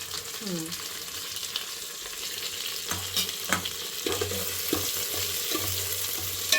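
Mint and curry leaves sizzle in hot oil with onion, green chilli and cashews in a pan, a loud continuous frying hiss broken by repeated spoon scrapes and stirring knocks.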